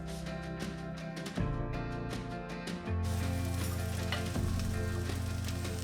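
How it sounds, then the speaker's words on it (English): Cabbage and green onions stir-fry in a pot for fried saimin with a continuous bright sizzle. Background music with steady tones plays beneath it throughout. "Then add in the cabbage and half of the green onions. Stir fry for a few minutes."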